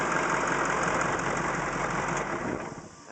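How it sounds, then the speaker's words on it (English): The engine of a Caterpillar 613C scraper runs with a loud, steady diesel rumble close by, then begins to wind down near the end as it is shut off. "Go ahead and shut it off, Troy."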